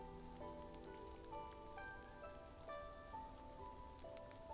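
Steady rainfall patters in a video game scene, a soft continuous hiss with faint tonal music notes drifting over it and no voices.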